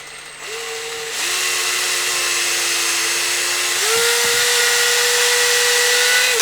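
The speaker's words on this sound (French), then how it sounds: "On va percer plus petit." A power drill bores a smaller hole in a Team Magic E6 RC car drivetrain part, a loud close motor whine holding steady, then stepping up in pitch as the bit bites, with brief knocks.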